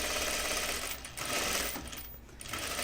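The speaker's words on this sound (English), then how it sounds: "I'm going to stitch just inside the seam line, the actual seam line." A sewing machine stitches a French seam on a set-in sleeve, a steady fast whirring rattle running throughout with slight dips in speed, close and alone.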